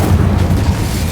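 Incendio fire spell cast in the Hogwarts Legacy video game, a dense low booming burst of flame that rumbles steadily and loudly throughout with no pause.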